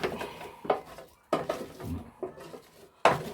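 Sautéed potatoes with bacon and onions are stirred in an air fryer basket, giving a few quiet, irregular clinks and scrapes separated by short pauses.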